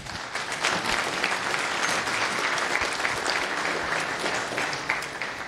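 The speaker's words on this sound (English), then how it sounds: "So round of applause for her." Audience applause at a FOSDEM tech conference welcoming a Kubernetes talk, dense steady clapping from a large crowd sustained evenly for several seconds without voices.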